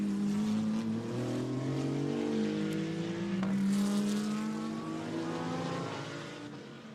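A Maserati GT2 race car in qualifying at Barcelona's circuit winds through a sequence of turns, its engine note rising and dropping through quick gear changes before fading slightly at the end.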